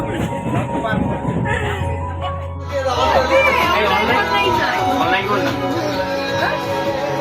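Steady rumble of a moving train carriage with many people chattering around, a busy crowded cabin under continuous low mechanical noise.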